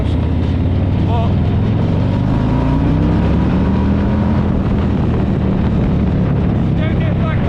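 A 2024 Harley-Davidson Street Glide motorcycle with its stock exhaust rumbles loudly and steadily on a ride, engine drone heavily mixed with wind buffeting on the microphone throughout.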